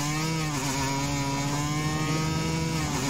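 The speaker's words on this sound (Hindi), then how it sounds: "Dirt bike let's. ओ भाई आवाज भी है" A dirt bike engine in a video game drones loud and steady, its buzzing, harmonic-rich note holding almost constant pitch throughout with no pauses.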